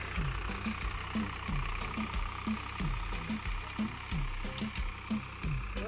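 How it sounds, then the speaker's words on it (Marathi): Tractor engine chugging at a steady idle-like rhythm while spreading farmyard manure across a field, with regular low pulses, close and continuous. "हे आम्ही रानामध्ये खत विस्कटत आहोत ट्रॅक्टरच्या साहाय्याने"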